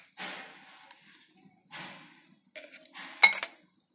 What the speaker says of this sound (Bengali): আমি জারে তুলে দিচ্ছি